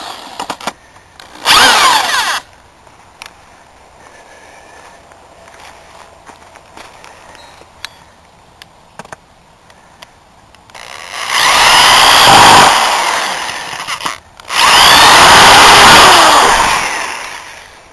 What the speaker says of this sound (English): let me screw one of these in here for a quick second